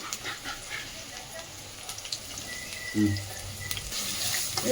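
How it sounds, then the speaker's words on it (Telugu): Sliced onions and green chillies fry in a pan for a chicken curry, giving a soft, continuous sizzle close by, with a brief stirring clatter partway through. "ఇప్పుడు బ్రౌన్ కలర్ కొంచెం రెడ్గా వచ్చేదాకా వేయించుకోవాలి ఆనియన్"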